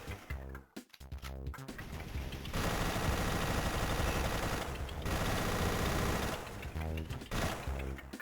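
Rapid automatic gunfire from GoldenEye: Rogue Agent on the Nintendo DS rattles loud and dense for several seconds, with a few short bursts before and after.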